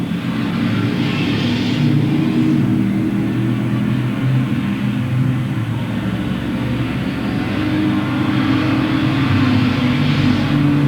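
Street stock race cars run at Louisville Motor Speedway in 1997. A loud, continuous engine roar holds steady throughout, with the pitch of the engines swelling and fading as the cars circle the track.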